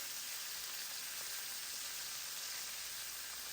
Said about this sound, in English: once the meat is nice and brown, you're gonna flip it over and sear it on the other side as well